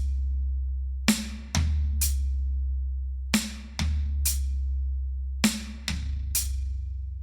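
A drum kit plays three repeated triplet phrases moving across hi-hat, snare and toms, each a quick group of crisp hits with ringing decay, separated by pauses over a steady low hum.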